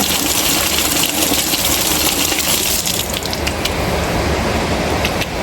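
Water gushes loudly and continuously while an irrigation pump drones underneath, a close, steady rushing sound with no voices.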